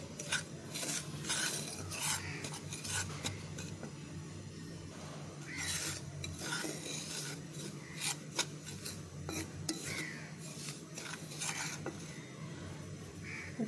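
Semolina stirred and dry-fried in a frying pan over medium-low heat gives a steady gritty scraping and rasping, with a utensil rubbing rhythmically against the pan, close and continuous with no talking.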